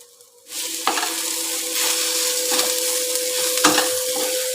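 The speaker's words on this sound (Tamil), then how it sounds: "கட் பண்ணியிருக்கிற இந்த சேப்பங்கிழங்கு ஆட் பண்ணிக்கலாம். நல்லா ஒரே மாதிரி கிளறி விட்டுக்கலாம்." Colocasia (taro root) pieces hit hot oil in a pan and sizzle, then a utensil stirs them in several distinct scraping strokes over a continuous frying hiss, with a faint steady hum underneath.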